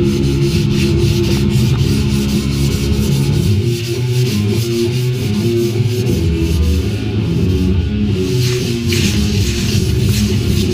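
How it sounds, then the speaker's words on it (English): A wooden board being sanded in a woodshop, with a continuous loud abrasive rubbing that holds steady throughout, alone and close up. "Sanding the board, sanding the board."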